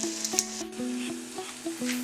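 Homemade hashbrowns fry in hot oil in a pan, giving a steady, close sizzle with faint crackles and a few light clinks, and no one speaks.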